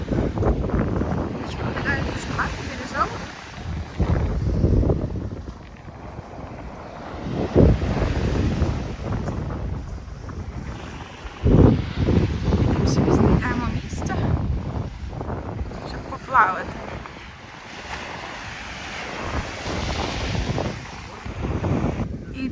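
Wind buffets the microphone hard on a beach in Cape Verde near the Robinson Cabo Verde hotel, with surging surf underneath that rises and falls in uneven gusts and washes.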